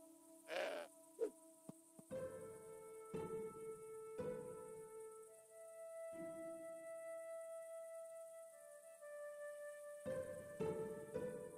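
A goat in the video game Broken Sword 5 gives a short bleat near the start, with game music and tones continuing afterward.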